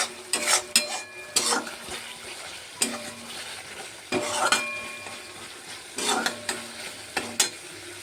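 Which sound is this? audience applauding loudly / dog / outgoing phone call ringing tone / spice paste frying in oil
spice paste frying in oil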